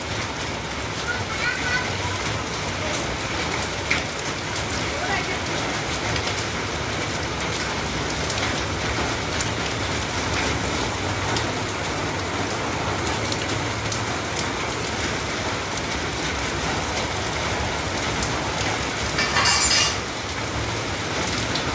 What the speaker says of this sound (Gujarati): હવે આ વરસાદ જરીકે ગમતો નથી